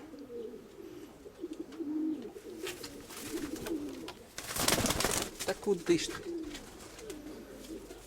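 Pigeons and their young in a Ukrainian loft coo in low, repeated murmurs near by, with a brief burst of flapping or rustling midway and someone speaking briefly.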